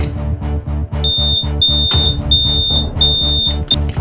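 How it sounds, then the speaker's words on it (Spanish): Fire alarm sounding loudly and close, repeating shrill high beeps in an even pattern over a pulsing low buzz. "la alarma de incendios ha sonado."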